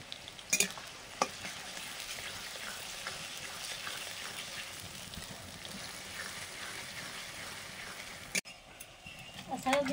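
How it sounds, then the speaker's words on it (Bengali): Onions frying in ghee for birista for a soya chunk biryani, a steady sizzle with occasional stirring scrapes and clinks, close and moderately loud. "বেরেস্তা ভেজে নিচ্ছি ঘিতেই।"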